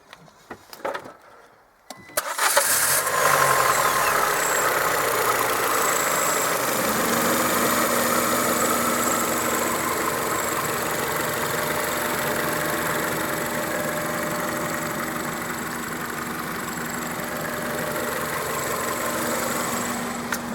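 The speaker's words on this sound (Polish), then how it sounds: "Sobie odpalimy zaraz silniczek. Zobaczymy jak pracuje." A Citroen C4 VTS with a 2.0 engine cranks briefly, catches, then settles into a steady, loud idle with an even hum and slight vibration, heard alone and close by.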